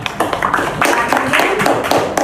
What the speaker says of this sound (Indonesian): Kasih aplaus buat Zaidra